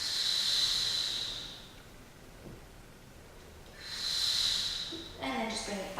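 A person takes two long, deep, hissing breaths, each lasting about a second and a half, during Pilates stretching. A short burst of speaking voice follows near the end.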